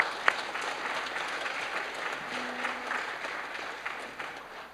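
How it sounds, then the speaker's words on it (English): A Youth Shabbat celebration audience applauds a teen honoree, producing steady, dense clapping that holds at a soft, even level throughout with no voices on top. "you can clap for her, of course."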